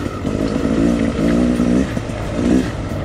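A 2019 Beta 300 Xtrainer two-stroke enduro motorcycle engine riding off-road, its buzzy, raspy note rising and falling with throttle blips, loud and close throughout.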